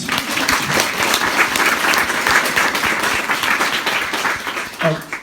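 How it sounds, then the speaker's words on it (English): Audience applause at a bookshop author event, a sustained, even wash of clapping throughout that tapers near the end as a voice briefly cuts in. "I think it's time for a second round of applause for that"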